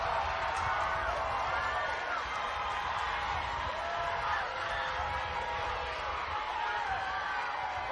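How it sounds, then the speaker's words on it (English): Crowd at a state championship softball game, a steady wash of cheering and whooping under a commentator who keeps talking throughout. "Crowd on their feet."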